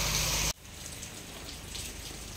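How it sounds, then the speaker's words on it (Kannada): Heavy monsoon rain pours down in Udupi as a steady, dense hiss of drops on surfaces, following a sudden loud burst that cuts off abruptly at the start. "ಮಳೆ ಸುರಿತಾ ಇದೆ, ಹ್ಮ್ ನೋಡಿ ಪುನಃ ಮಳೆ ಸುರಾಯ್ತು"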